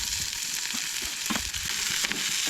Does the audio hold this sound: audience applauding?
no